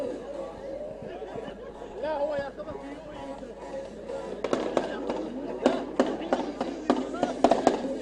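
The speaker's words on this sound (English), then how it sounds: "We can hear the noise of celebrations by some drivers, and that is in particular Fahad getting some bangs" Celebratory bangs go off at a desert drift competition in Oman. Loud sharp cracks come first scattered, then thick and rapid like firecrackers, over crowd chatter and a commentator's voice.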